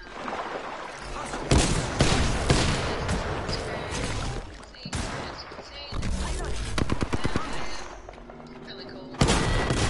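Gunfire in Apex Legends, dense volleys of rapid automatic shots and bursts in heavy waves with brief lulls, loud and close, with a voice talking under the shooting.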